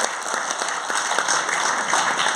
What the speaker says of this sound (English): Huge round of applause for Hiphop Tamizha